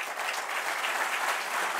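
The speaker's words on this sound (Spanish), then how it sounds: "le pido un fuerte aplauso para ellos" Audience applause at an award ceremony, a steady dense wash of clapping from a crowd, loud and close, holding evenly for the whole stretch with no voices over it.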